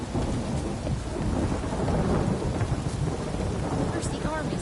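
Steady, dense rain with rolling thunder in The Witcher 3: Wild Hunt, a continuous loud storm wash throughout with no pauses.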